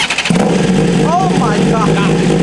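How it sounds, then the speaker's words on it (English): A 2024 BMW M1000RR superbike engine cranks and catches, settling into a loud, rough idle close by, with a sharp jump at ignition and a steady growl throughout. "Let's give them a startup before I take it for a spin."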